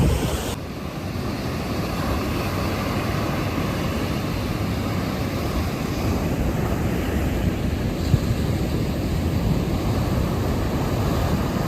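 Sea waves wash steadily onto the beach at Madhavpur, a dense continuous roar of surf mixed with wind buffeting the microphone, loud and unbroken with no talking.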